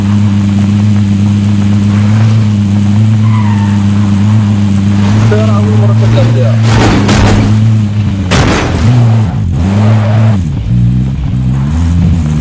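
A car drives in the video game Call of Duty Warzone, its loud, steady engine drone running throughout, with sharp booms and bursts cutting in near the middle.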